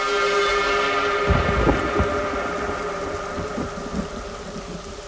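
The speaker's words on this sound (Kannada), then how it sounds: "ಮಲೆನಾಡಲ್ಲಿ ಮಳೆ ಶುರು ಆದರೆ ನಿಲ್ಲೋ ಮ್ಯಾಪೇ ಇಲ್ಲ." Heavy rain pours steadily while low thunder rumbles and thuds roll through, loudest early on, then easing into a continuous downpour.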